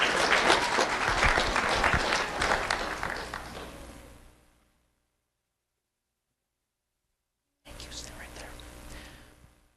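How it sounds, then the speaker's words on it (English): Applause from an audience, loud and sustained for about four seconds, then a sudden cut to silence before the clapping resumes. "Let's have a round of applause for Sarah Sylvester."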